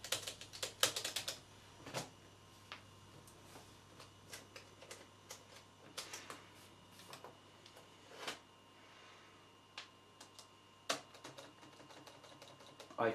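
Keys clatter on a ThinkPad 760XL laptop keyboard in irregular bursts of close clicks and taps, some loud clusters and single strokes separated by pauses, with a steady low hum underneath.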